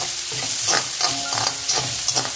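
Onion frying in oil crackles with a steady close sizzle, broken by several quick stirring scrapes at a regular pace, with no voices.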